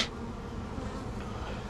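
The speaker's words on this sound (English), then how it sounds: "So this colony had a bunch of bees on the bottom board." Honeybees and drones crowding the bottom board of a hive during a fall inspection, giving a dense, steady, close buzz throughout.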